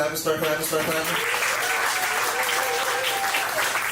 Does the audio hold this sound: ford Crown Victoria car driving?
no